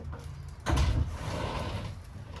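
Door shutting inside a 2022 Forest River Cherokee Alpha Wolf 28FK-L travel trailer with dual bathroom doors: a single close thump of moderate loudness, followed by a short rattling tail.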